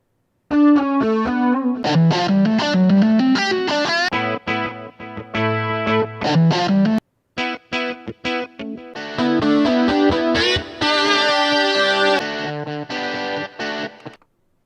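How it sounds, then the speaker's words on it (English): A distorted, synth-like lead guitar tone from an Akai MPC humbucker-style patch plays a busy melodic line with chorus and effects, loud and continuous apart from a brief gap midway. "Even like the lead sounds and the guitar, sort of that humbucker profile."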